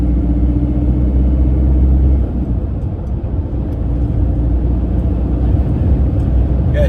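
An engine idling through a straight-through exhaust pipe with no silencer, a continuous deep, throaty rumble that dips slightly partway and then holds steady, close and loud with no speech.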